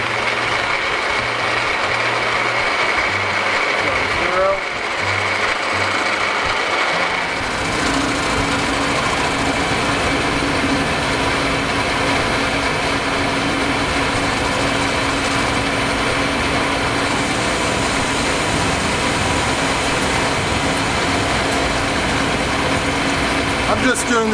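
A metal lathe facing the end of a small steel workpiece by hand feed gives a steady mechanical whine and hum that runs continuously, with a faint tone underneath and no pauses.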